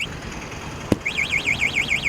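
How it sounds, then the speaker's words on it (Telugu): A single sharp tap, then the anti-theft alarm of an E Went Lightning electric scooter starts a rapid warbling siren tone that repeats steadily, close and loud. "బండి మీద ఎవరైనా ట్యాప్ చేశారనుకోండి, బండి భలే ఉందని చెప్పేసి అలారం అయితే వచ్చేస్తుందండి"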